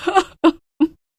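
A woman wailing loudly in a horror story, three sharp sobbing cries in quick succession, close and alone.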